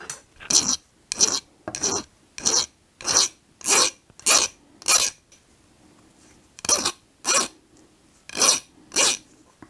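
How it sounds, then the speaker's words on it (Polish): Hand file rasping on a small metal ice-fishing jig lure after grinding, close and loud in regular back-and-forth strokes, a steady run of strokes, a short pause, then a few more. "Poprawię tylko troszkę pilnikiem."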